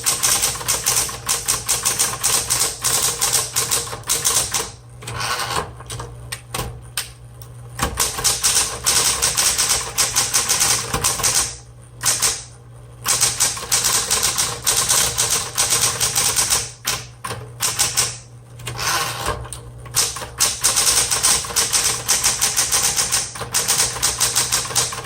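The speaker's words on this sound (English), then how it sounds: "Oh, wonderful typewriter." A red 1960s Smith Corona Electra 120 electric typewriter is typed on steadily, with rapid close key strikes over its constant motor hum and several brief pauses between bursts of typing.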